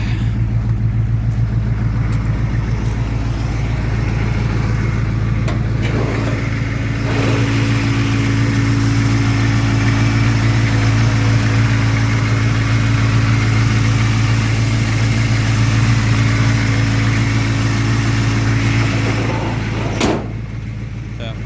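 A 1986 Chevrolet K5 Blazer with a naturally aspirated 6.2 liter Detroit diesel runs at a loud, steady idle with a deep clattering drone, close up and continuous throughout.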